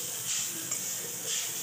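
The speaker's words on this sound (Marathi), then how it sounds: "ओल्या खोबऱ्याचा चुरा आपण 2 मिनिटं मध्यम गॅसवर भाजून घेणार आहोत।" Grated fresh coconut dry-roasts in a pan on a medium gas flame, giving a soft continuous sizzle with faint stirring scrapes, close and low in level.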